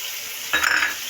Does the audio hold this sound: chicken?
yes